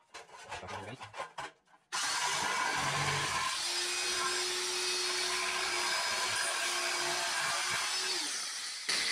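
An angle grinder cuts back rust on a Honda Civic's bodywork, a loud steady whine with rough scraping that runs unbroken for about seven seconds. Brief rattling handling noises come just before it starts.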